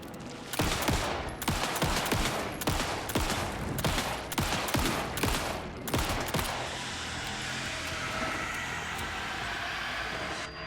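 Rapid bursts of gunfire from Alan Wake 2 crack out in quick succession for about six seconds, close and loud, then give way to a steady rumbling ambience with no further shots.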